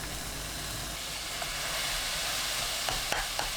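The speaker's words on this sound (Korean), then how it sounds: "다진 마늘 1큰술 넣고 센 불로 1분 볶습니다." Clam meat with mirin and minced garlic being stir-fried over high heat, giving a steady, close sizzle with faint steam hiss and a few light stirring clicks toward the end.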